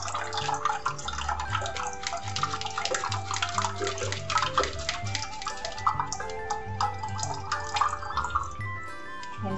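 Quinoa milk pours from a jug through a metal strainer, a continuous close trickling and splashing of liquid with slight dripping, fairly soft and with no talking.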